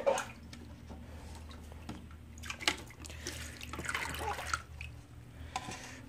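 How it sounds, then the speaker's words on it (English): Water trickling and dripping into a turtle tank filter, a soft gurgling flow with small splashes, faint and close, over a low steady hum. "You want to make sure you fill it up with water"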